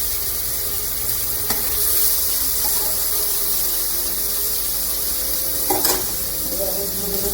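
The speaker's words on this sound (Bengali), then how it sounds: "এবারে দিয়ে দেবো টমেটো কুচি, তার সঙ্গে দুটো গোটা লঙ্কা," Chopped tomato and two whole chillies fry loudly in a pan, a dense steady hiss of sizzling oil close by with a few sharp stirring knocks.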